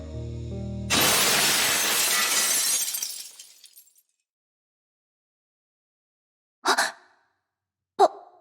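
Glass shatters in an explosion in the video game Honkai Impact 3rd: a loud crashing burst that rings and fades over a few seconds, then two short breathy sounds after a silence.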